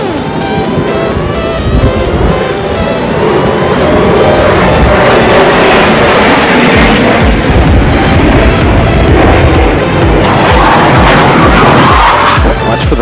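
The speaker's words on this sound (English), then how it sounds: "Watch for the planes crossing." Airshow planes roaring overhead during practice runs at a beach town, a loud continuous jet roar with passing pitch sweeps as aircraft cross.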